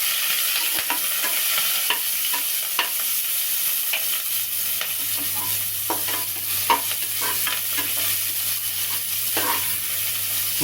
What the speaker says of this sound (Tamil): நல்லா கொஞ்சம் வதங்கினாங்க.